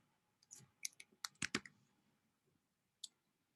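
A handful of soft keyboard clicks tapped out in a quick cluster, like a word typed into a search bar on a computer, followed by one last isolated keystroke in an otherwise quiet room.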